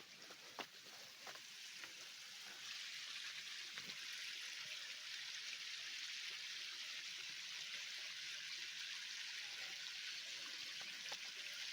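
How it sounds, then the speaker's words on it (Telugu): Water from a waterfall near a cave rushes in a steady, moderately distant wash that grows fuller after the first few seconds, with a few faint clicks and knocks over it. "చూస్తారు కదా వాటర్ ఫాల్స్."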